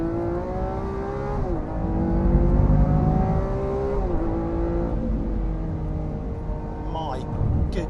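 Lamborghini Aventador S V12 engine revving hard through a new lighter exhaust system, a loud sustained roar rising and falling in pitch with sharp gear-change dips, heard close and continuous throughout.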